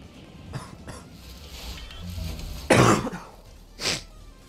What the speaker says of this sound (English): It's always I'm coughing over here.